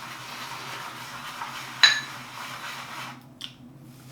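A shaving brush tapping and clinking against a soap bowl holding a small puck of soap, one sharp knock midway and a softer second tap later, over a quiet, low background hum.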